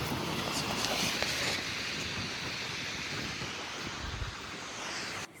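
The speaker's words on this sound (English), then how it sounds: "Oh, the wind." Strong wind buffets the microphone outdoors in a Swedish city, a loud, continuous rushing roar that holds steady with no voices.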